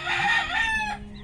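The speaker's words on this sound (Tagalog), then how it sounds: "Pakarami yung manok na ano dito," A rooster crows loudly and close by, a single drawn-out call with clucking hens mixed in, ending abruptly, among many chickens including fighting cocks.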